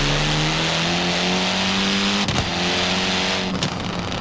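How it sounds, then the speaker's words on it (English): Rally car engine in the racing video game Forza Horizon 2, revving loud and steady with a slowly rising drone, broken by two brief crackling shifts or pops near the end. "going from Horizon 2's rally car sounds to this"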